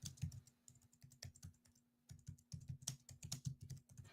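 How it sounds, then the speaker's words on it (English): Rapid computer keyboard typing, a dense run of sharp key clicks with brief pauses, close and fairly quiet, with no voices. "He's typing up a storm, everybody."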